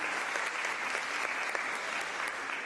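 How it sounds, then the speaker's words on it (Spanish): An audience claps for Father Renzo at a talk on faith, a short, even burst of fairly distant applause that holds steady throughout. "Le damos un aplauso al padre"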